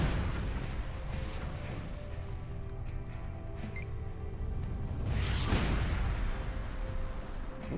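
Explosions in the Everspace space combat game come as muffled booms and crackling bursts over a low droning background, one louder blast swelling near the end.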